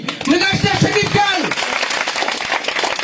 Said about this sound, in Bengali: আমরা একটা জয় করতালি